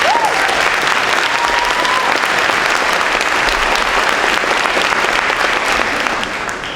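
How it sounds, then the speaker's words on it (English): Loud, sustained applause from a ceremony audience for graduating high school students at a middle college cording ceremony, dense clapping held evenly throughout before easing slightly at the end. "Let's give those students a round of applause."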